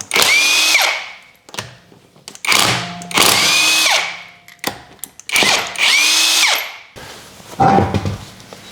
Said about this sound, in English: loosen up all the lug nuts, spin them off, and remove that front tire